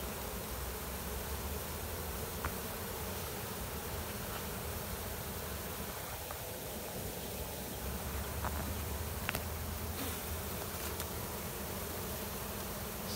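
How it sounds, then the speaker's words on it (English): Honey bees drone and buzz steadily around a hive, a dense, continuous hum at a moderate level with a few brief closer passes standing out. "It's a big bee."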